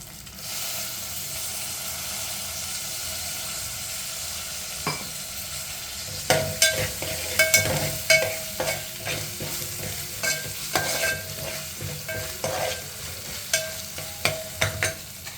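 Curry leaves sizzle and crackle in hot oil with ginger-garlic paste while making eggplant curry, a steady frying hiss broken by sharp pops and stirring clatter that grow busier partway through.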